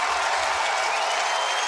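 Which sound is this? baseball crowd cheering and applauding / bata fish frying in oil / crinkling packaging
baseball crowd cheering and applauding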